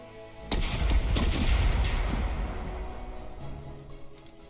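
Several deep ship cannon blasts from a broadside in the video game Corsairs Legacy go off in quick succession, booming loudly and then rumbling away into a fading echo.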